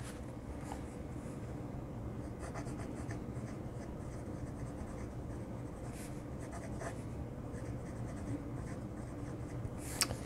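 A Moonman Wankai fountain pen with a fine nib writes on paper, giving a soft, steady scratching that runs for the whole stretch with small strokes and taps close by, and no one talks.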